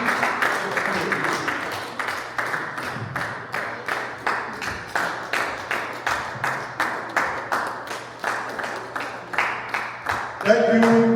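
At the CPBI International Congress Expo 2024, the audience keeps up loud, steady synchronized clapping for a speaker for about ten seconds, and a voice begins speaking over the final beats.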